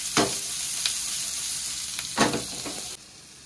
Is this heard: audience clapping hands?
no